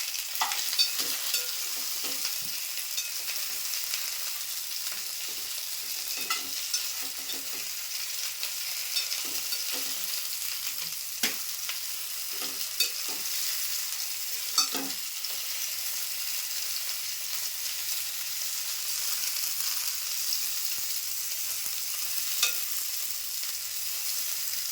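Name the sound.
eggplant being stir-fried in a pan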